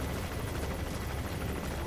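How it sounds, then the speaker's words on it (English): A helicopter in the stealth action game Metal Gear Solid V: The Phantom Pain, a steady dense rotor-and-engine rumble that holds loud and unbroken for the whole moment, with no talk over it. "that helicopter hasn't seemed to notice yet"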